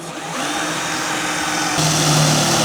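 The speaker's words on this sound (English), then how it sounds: "we got a drill where the bolt's going through, and I need 2 facility holes" A power drill bores holes through the A pillar of a classic truck for a shoulder harness bolt, whining steadily at close range before its pitch shifts and it grows louder under load near the end.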